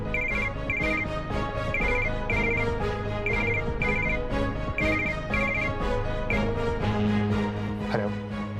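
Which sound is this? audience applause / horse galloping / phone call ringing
phone call ringing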